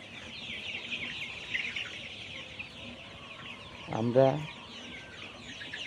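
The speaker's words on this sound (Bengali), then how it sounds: "এই মুরগিগুলো পুলেট হিসেবে বিক্রি করা হবে।" Layer pullet chickens, about 35 days old, chirp together softly in a farm shed. One louder, nearer cluck rises briefly near the end.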